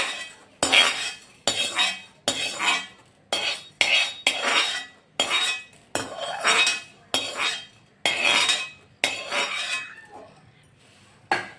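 Chana dal and spices are dry-roasted in a pan, stirred with a metal spoon in regular scraping, clinking strokes about once a second, close and fairly loud.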